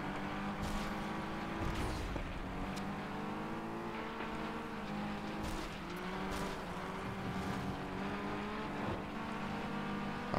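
Race car engine in the video game FlatOut 2 holding at maximum revs, a loud, steady, buzzing high-pitched whine that barely wavers, with faint scrapes and tire noise layered over it.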